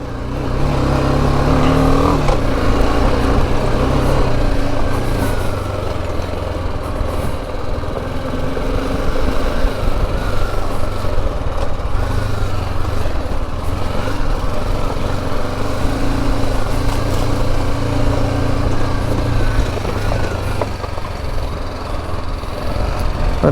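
Motorcycle ridden over a hillock in the city of Mapsa with the rider standing, a steady loud engine drone with rising and falling revs throughout, close to the microphone and without talk.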